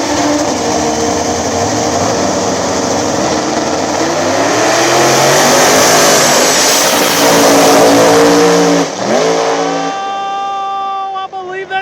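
Drag race cars, including a small block turbo Fox Body Mustang, roar loudly down a no-prep small tire strip, rising in pitch as they accelerate, then fading with a sharp shift near the end, with an announcer talking over them.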